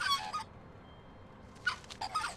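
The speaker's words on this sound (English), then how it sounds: "So it makes crow noises and magpie noises." A magpie-like bird in the Elroy and the Aliens video game gives a harsh chattering call in two separate bursts with quiet in between.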